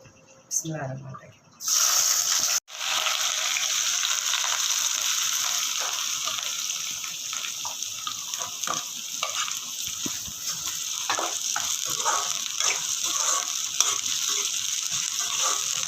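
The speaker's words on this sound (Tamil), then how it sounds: "இதில் வந்து நம்ம நல்லா பொன்னரமாக நல்லா வறுத்து எடுத்துக்க போகிறோம்" Small and big onions frying and stirred in hot oil until golden, a steady close sizzle with scraping stir strokes running throughout after a brief start.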